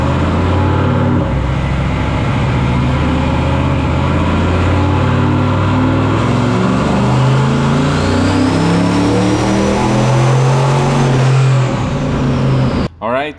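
A turbocharged carbureted Mopar 361 big block running on a dyno on pump gas, revving hard and loud and steady for about thirteen seconds, with a rising whine near the end before it cuts off abruptly.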